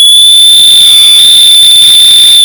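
A very loud cheap whistle from Shein, rated around 115 decibels, gives a piercing, steady shrill tone that holds unbroken at full, clipping loudness for a couple of seconds, with no talking.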